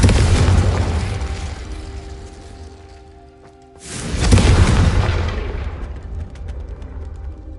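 Two booming fire-spell explosions from Confringo in Hogwarts Legacy, each a loud blast decaying into a long rumbling roar, the second following a few seconds after the first, with no voices.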